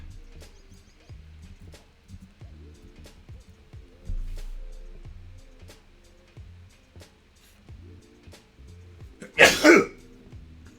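A single sharp sneeze bursts out near the end, following a stretch of quiet throat sounds, sniffles and soft background noise from a gaming stream.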